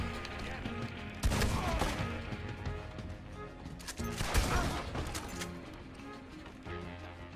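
Shotgun gunfire in the video game Red Dead Redemption 2: two loud, close blasts about three seconds apart, each with a sharp crack and a booming tail, over a steady bed of game ambience.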